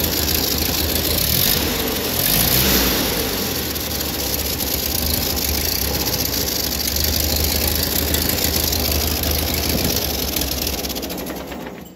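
A 1940s Ford 2N tractor engine runs steadily at close range, a rough, loud, even chugging rumble with broad mechanical clatter that holds for the whole stretch with no talking.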